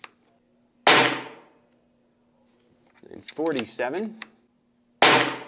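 Two sharp, loud shots from an Umarex Iconix .22 PCP airgun crack out about four seconds apart on a range, each followed by a brief ring, with someone speaking briefly between them.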